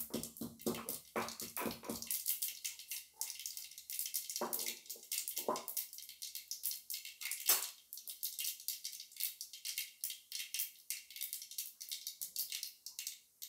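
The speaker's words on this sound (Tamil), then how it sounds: "கடுகு பொரிஞ்சிருச்சு" Mustard seeds splutter in hot oil with dense, close, irregular crackling and popping bursts that continue throughout, with no voices.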